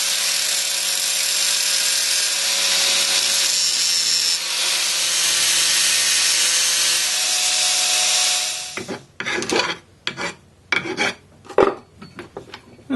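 A cut-down bolt is ground into a small screwdriver-shaped tip, giving a loud continuous harsh rasp for about eight seconds. It then breaks into several short scraping bursts with pauses.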